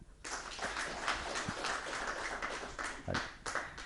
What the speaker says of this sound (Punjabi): ਤੇ ਧੀਆਂ ਦੇ ਨਾਂ ਤੇ ਤਾਲੀਆਂ